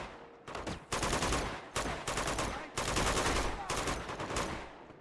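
Gunfire in Uncharted 2 Among Thieves Remastered on PS5: several bursts of rapid automatic shots, each lasting about a second, separated by brief gaps, loud and close, with no talk.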